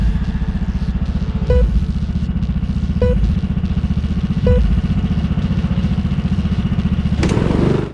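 Go-kart engines at a race start at South Coast Karting give a loud, close, steady buzzing drone with a few light clanks, and the revs surge sharply near the end.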